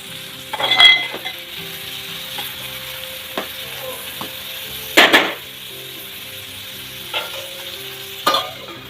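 Two crushed garlic cloves go into a hot pan for a traditional Konkan dish, giving a soft continuous sizzle broken by several sharp clinks and scrapes of a spoon stirring against the metal.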